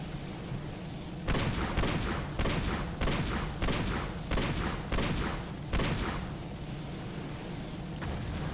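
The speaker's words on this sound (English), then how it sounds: "I do wish these bolter pistols did a little bit more damage" Bolter pistols fire in the Battlefield 40K video game, giving a loud series of about eight heavy, evenly spaced booming shots, each ringing briefly, heard up close with no talk.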